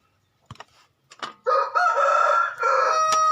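A rooster crows loudly and close by, one long sustained cock-a-doodle-doo after a few short clucks and rustling sounds, in a rural Thai farm setting where bamboo shoot curry is being cooked.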